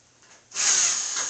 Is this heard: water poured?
no